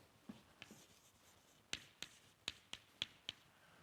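Writing a formula on a board during a math lecture, a series of sharp taps and clicks of chalk or marker strokes, about nine distinct hits with quicker ones toward the end, fairly faint.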